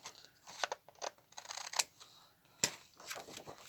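Scissors snip through thin book-page paper in a run of crisp, close cuts, several quick snips with short pauses between them, alone without talk.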